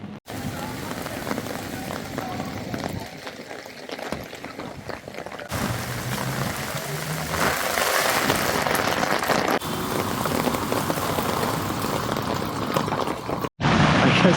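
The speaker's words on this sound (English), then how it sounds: "it's just so miserable walking around in the rain like this" Heavy rain pours steadily in Intramuros, Manila, a dense hiss of drops on surfaces close by, swelling louder in the second half with brief dips and a few knocks.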